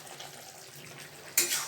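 Pumpkin greens cooking in a pan with spice paste being stirred in give a low, quiet sizzle, then a sudden louder burst of stirring and scraping near the end; no talking.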